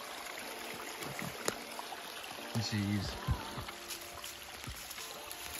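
Water trickling and splashing over little waterfalls in a small creek, the overflow stream from a lake above, heard as a steady close babble with brief louder splashes and a short spoken exclamation.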